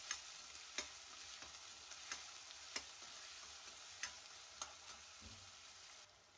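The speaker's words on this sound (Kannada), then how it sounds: "ಇವಾಗ ಚೆನ್ನಾಗಿ ಫ್ರೈ ಮಾಡ್ಕೊಳ್ಳೋಣ." Onions frying in a pan for tomato gojju, giving a faint steady sizzle with regularly spaced ticks from a spoon stirring against the pan, quiet and close, with no voices.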